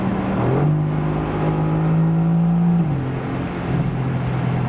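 The V8 of a Mercedes-AMG GT C Roadster, a 557 hp convertible, revs up into a strong, steady rumbling note. The pitch rises and holds, then drops back as the car drives, loud and close with wind noise underneath.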